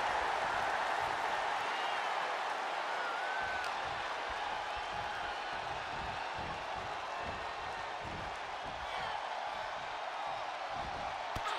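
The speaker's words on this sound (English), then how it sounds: "The WWE Universe is showing their appreciation for the action they're seeing." A virtual arena crowd in WWE 2K23 cheering a women's match, a broad, steady wash of distant crowd noise with faint claps and thuds from the ring underneath, holding at an even level throughout.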